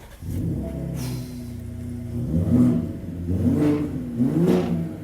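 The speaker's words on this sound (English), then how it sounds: "Just take a listen to this exhaust." 2021 Ford Raptor with a V6 bi-turbo engine and carbon fiber exhaust outlets revving repeatedly up close, a low idle rumble rising into three or four loud throaty surges with gurgling between them.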